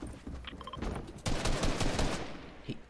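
Gunfire in a video game battle, with a dense rapid burst of shots through the middle of the stretch, preceded by scattered lighter game effects.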